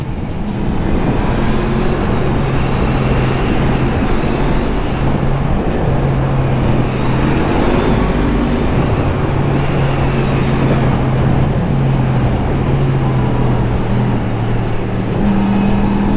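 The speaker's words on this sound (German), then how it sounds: "Wieder, wieder Auto von vorne, der fährt sehr mittig, aufpassen." An oncoming car passes on a narrow country road, heard from inside a moving vehicle whose steady engine drone and road rumble dominate, with the passing swell blending into the continuous noise.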